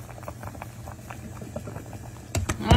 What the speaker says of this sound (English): Let them come to a little boil.